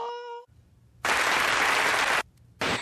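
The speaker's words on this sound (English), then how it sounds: "The clapping stops so abruptly because they're robots." Robot audience in the animated series Futurama breaks into loud, dense clapping that cuts off abruptly, then a second burst starts and stops just as suddenly, all without talk.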